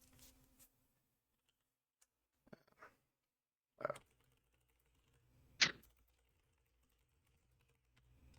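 Computer keyboard typing during a game review session, sparse quiet clicks and a couple of louder bursts of keystrokes separated by long near-silent gaps.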